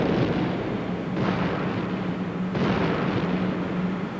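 A huge rumbling explosion from comet Shoemaker-Levy 9 striking Jupiter, a dense continuous roar with two or three surging blasts rolling through it, loud throughout.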